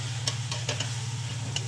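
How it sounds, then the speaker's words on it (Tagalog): Beef feet sautéing in a pot, stirred with a utensil, giving a low steady sizzle with a few soft scraping strokes close by, alone without voices. "Saka na ito halo-haluin."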